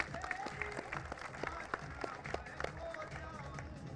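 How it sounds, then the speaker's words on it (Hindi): An audience at a Holi event in Ayodhya applauding, with faint scattered clapping from a distant crowd and a little background talk. "तो हिंदी के लिए एक बार ताली बजा दीजिए"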